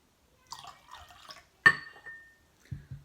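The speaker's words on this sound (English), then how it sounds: "Now I'm going to put some grape juice in this water." Grape juice is poured into a glass of water, giving a few brief, quiet liquid trickles and a sharp clink with soft drips and pauses between them.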